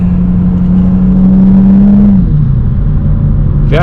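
BMW E92 335i with an FBO setup cruising on a highway, its engine and exhaust droning steadily with a tone that drops as the revs ease, then a rising whir near the end.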